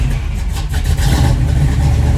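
A fuel-injected 427 engine in a 1969 Chevrolet Nova runs loud and close, a dense steady rumble with a slight rise in revs, with no talking over it.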